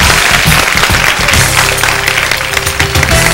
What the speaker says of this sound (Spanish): Un aplauso doble entonces